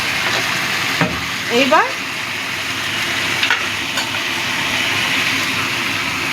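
Vegetables and prawns sizzle steadily in a hot pan with chilli powder, with a few scraping stir strokes and a brief spoken word over the constant frying hiss.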